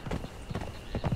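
Horse hooves clip-clop in Conan Exiles, several quick uneven steps close by and fairly loud, with a faint voice speaking softly underneath.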